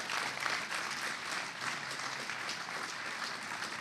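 A hall full of listeners at a hydraulic-structures conference claps steadily, a dense, even wash of applause at moderate distance with no one speaking.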